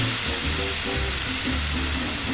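Tomatoes sizzling in a hot pan, a steady dense frying hiss with faint crackles throughout, close and continuous with no voices.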